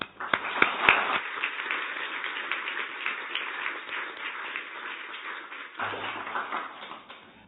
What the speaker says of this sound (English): We'll keep clapping while they're getting their last photo